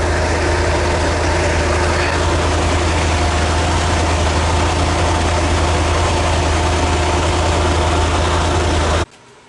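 Vector W8 supercar engine idling while warming up, a loud, steady low rumble with a constant droning hum that runs unbroken and then cuts off abruptly near the end.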